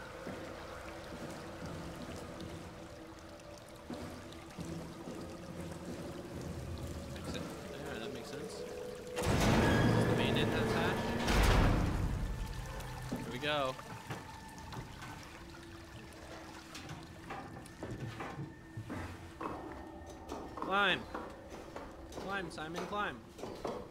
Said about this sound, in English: There is water behind this door.